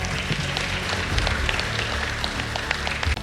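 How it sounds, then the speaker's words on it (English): A crowd applauds the contestants at a competition results announcement, a dense steady wash of clapping that holds at an even level for the whole stretch, with a low hum underneath. "please give a big round of applause for yourself"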